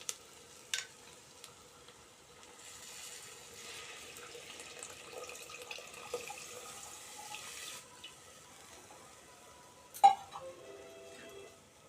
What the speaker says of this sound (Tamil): இப்போ நம்ம கரைச்சி வச்ச புளி தண்ணி ஊற்றிப்போம்